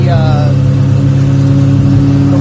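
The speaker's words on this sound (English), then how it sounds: "I'm letting it decelerate in gear" A car engine decelerates in gear during break-in, a loud, close, steady drone whose pitch drops briefly at first and then holds even.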